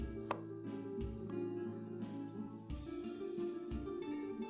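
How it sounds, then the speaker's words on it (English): Knife chopping crispy roast pork (thit heo quay) into bite-sized pieces, a run of steady blade strikes on a cutting board, close and moderately loud, with no talking. "we can cut the pork into strips. And then we can cut into bite-sized pieces."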